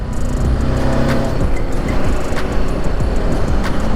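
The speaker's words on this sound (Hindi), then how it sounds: "सो ये है मारुति 800" Maruti 800 car on a road in India, a steady loud engine and tyre roar close by with faint higher clicks and hiss over it, no talking.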